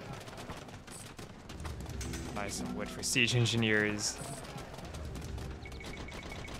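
Bombard cannons and gunfire from an Age of Empires Jan Zizka campaign battle, popping in scattered bursts with a louder cluster midway, under someone talking and game music.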